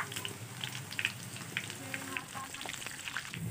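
Garlic and cumin sizzle and crackle steadily in oil in a pan, with scattered sharp pops and spits across the whole stretch.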